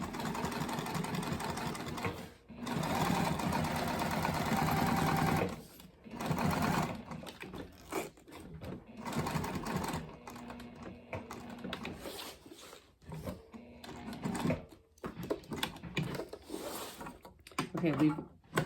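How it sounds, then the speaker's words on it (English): A sewing machine stitches across the bottom of a backpack in several rapid whirring bursts separated by short pauses, close and clear, with quiet talk in between. "we're going to stitch down across the bottom, not back stitching at the start and stop"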